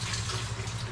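Rainwater running into a warehouse storeroom, a steady close rush of flowing, splashing water with no pauses, heard on its own.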